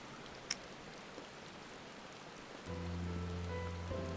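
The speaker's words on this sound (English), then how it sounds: "And now I'm sitting in the rain." Rain falls steadily in Final Fantasy XIV, a continuous soft hiss with one sharp tap near the start, and tonal game music swells in beneath it partway through.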